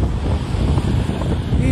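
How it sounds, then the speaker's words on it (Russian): Steady whistling wind in Kokand, a loud continuous roar buffeting the microphone with no breaks. "Достопримечательность Коканда – это свистящий, шумящий ветер, который здесь практически постоянно."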